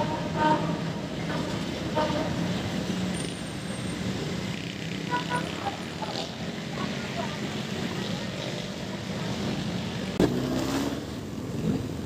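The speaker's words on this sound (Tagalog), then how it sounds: "Ito yung bagong tren." A new train rumbles steadily past nearby on the PNR rail track at Ramon Magsaysay Boulevard, Manila, with a continuous roar, faint rhythmic clatter and a brief horn-like tone near the end.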